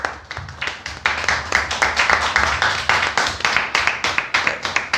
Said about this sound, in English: So big round of applause, guys.